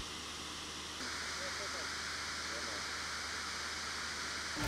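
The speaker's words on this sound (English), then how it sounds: "the cold water cools the hot aluminium liquid" Cold water pours over hot liquid aluminium during billet casting in a factory, making a dense, steady rushing hiss like a waterfall that grows a little louder after the first second and holds constant.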